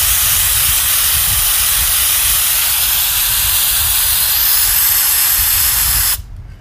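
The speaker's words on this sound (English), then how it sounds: "I'm going to spray it directly on here." Moisture Guard rust inhibitor aerosol sprays in one loud, close, continuous hiss lasting about six seconds, then cuts off abruptly.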